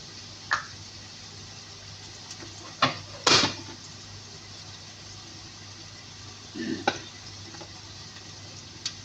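Turmeric and salt being stirred into food in a pan with a utensil, a few separate scraping strokes with a faint sizzle underneath, no talking.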